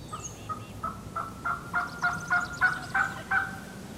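Wild spring turkey gobblers about 200 yards away answering a call: a rapid series of short gobbles, moderately faint across open ground.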